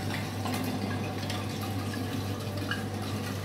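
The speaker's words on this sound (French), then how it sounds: "Donc on met 70 centilitres de rhum ambré avec 1 litre d'ananas." Amber rum and pineapple juice are poured for a Réunion-style planteur cocktail, a steady liquid stream running continuously and fairly close, with no talking over it.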